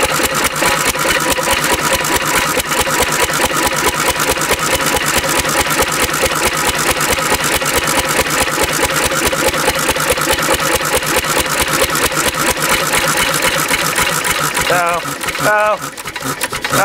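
A small engine in a gas versus diesel running test idles with a fast, steady mechanical chatter, loud and close throughout, faltering briefly near the end.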